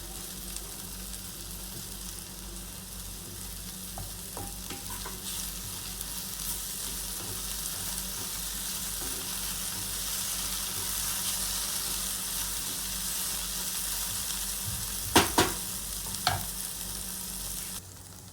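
Okra bhaji frying in a pan on low gas, a soft continuous sizzle running throughout, with a few sharp clinks of the spoon being stirred near the end.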